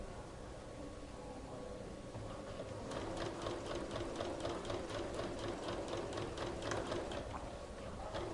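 A sewing machine stitches a denim pocket half a centimetre from the edge, humming continuously and fairly softly throughout with a faint rhythmic ticking, and nobody speaks.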